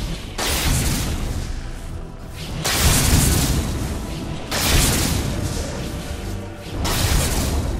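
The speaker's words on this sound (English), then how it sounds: "Radiant's middle tower has fallen." A tower being destroyed in the video game Dota 2, with a series of four loud, rumbling booming bursts spaced a couple of seconds apart, each swelling and then fading, with no voices.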